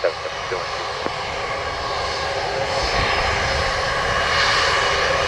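JetBlue jet airliner taking off from runway 07 at Montego Bay, Jamaica: a steady, broad engine roar holds throughout and slowly swells louder toward the end, with no speech over it.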